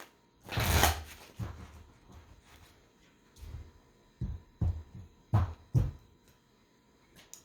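Tarot cards being shuffled, a few soft papery riffles and taps in irregular bursts, close and quiet, with no talking.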